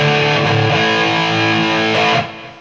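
An electric guitar played through a Vox VT40X Valvetronix amp set for tube-type distortion, a thick sustained chord ringing loud and steady, then cut off near the end.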